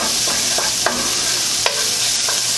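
Chopped garlic sautéing in a pan while cooking Tuscan chicken, giving a steady close sizzle with a few sharp stirring scrapes and clicks over about two and a half seconds.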